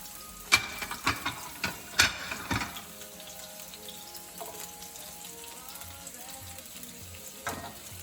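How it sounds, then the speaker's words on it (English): Coconut curry shrimp with green onion sautéing in a pan, a steady low sizzle under several sharp clacks of a utensil against the pan early on, then quieter stirring. "let's just continue to saute this"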